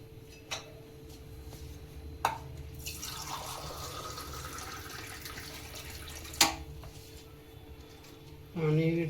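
Water is poured bit by bit into flour mixed with a little oil for dal dhokli dough, giving a soft, steady trickle in the middle of a quiet kitchen, with a few sharp taps and clicks around it.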